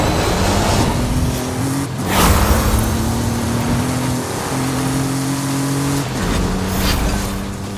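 A Porsche 959 Rally Raid car in a video game drives with a steady engine drone and stepped gear-shift pitch changes, and a rushing, rain-like hiss runs under it throughout.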